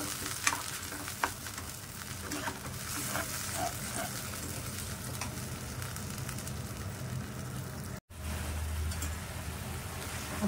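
Ground paste and onion fry in a pan for Arunachal-style kharji rice, with a continuous soft sizzle and occasional scraping stirs, moderately close and without talk.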